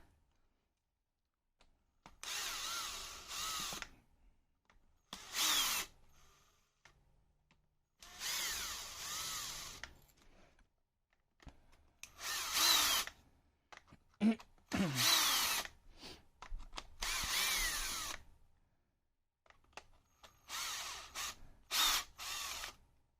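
A JCB 20V cordless drill whirs in repeated short bursts, about eight runs of a few seconds each with brief pauses between, as it backs out same-size screws during a teardown, close and fairly loud.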